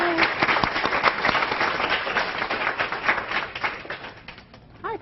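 An audience at a presentation on transgender care claps together, a dense, sustained burst of applause that gradually thins and fades near the end.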